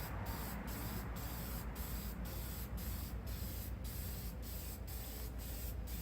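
A Rust-Oleum spray paint can hisses close by in a long run of repeated bursts, each separated by a brief, rhythmic dip, with no voices.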